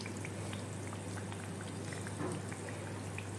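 Khajur (date) sweet frying in oil on a low flame, giving a steady soft sizzle with scattered tiny pops and crackles throughout, close by and even in level, alone with no voices.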